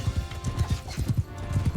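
Horse hooves gallop in Mount & Blade II Bannerlord, a quick, close, rhythmic drumming of thuds that keeps an even pace through the whole moment, with no talk over it.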